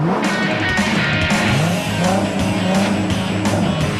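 A Ford Mustang driven hard on a driver-training course, its engine note loud and continuous with squealing tires and skidding throughout, close up and without voices.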